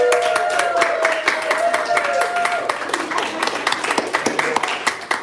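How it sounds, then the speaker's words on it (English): An audience applauds a newly introduced party chairperson at a county Republican civic engagement training. Steady, dense clapping runs throughout, with voices murmuring underneath. "Let's give her a round of applause."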